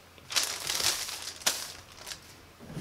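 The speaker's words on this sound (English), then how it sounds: "I'm going to put my butcher paper on top" Sheets of butcher paper crinkle and rustle in a few short bursts as they are laid over a T-shirt for heat-press iron-on work.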